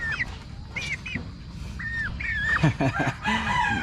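Young three-way cross gamefowl chickens of Boston Sweater and gold breeds calling nearby, with short rising chirps and squawks spread across the clip, some overlapping, over low background noise.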